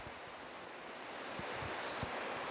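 A waterfall on Cypress Mountain in West Vancouver, British Columbia, pours with a steady, dense rushing hiss that slowly grows a little louder. It sounds fairly close and continuous, with faint low thumps underneath.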